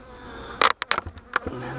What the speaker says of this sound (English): This has got a few bees in it.